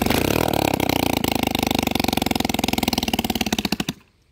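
A carbureted motorcycle engine on a home-built bike, restarting after its first start, runs loud and close with a rapid chugging beat that slows and stutters before cutting out, with no one talking.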